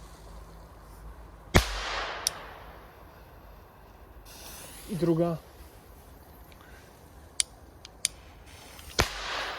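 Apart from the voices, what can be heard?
small firecrackers exploding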